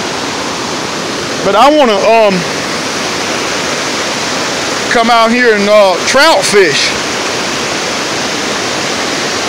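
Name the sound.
river water flowing, Nantahala River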